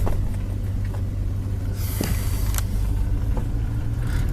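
A 1970 Ford Torino GT with a 351 Cleveland engine drives along with a steady, loud low rumble inside the cabin and a few brief knocks and rattles over it. No one speaks.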